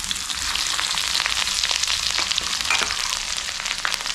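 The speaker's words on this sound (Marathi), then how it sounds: "आलं लसूण चांगली फ्राय झाली ना" Crushed ginger and garlic sizzle loudly and steadily in hot oil in a flat pan over a wood-fired stove, a continuous close-up frying hiss with no pauses.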